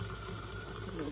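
Tap water runs steadily into plain breadcrumbs in a home kitchen, a brief continuous splashing hiss that is close and fairly loud.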